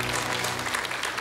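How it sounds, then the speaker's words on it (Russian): A studio audience on a televised housing lottery draw applauds a winner, a short continuous wash of dense clapping at an even, moderate level. "Эти аплодисменты звучат в вашу честь."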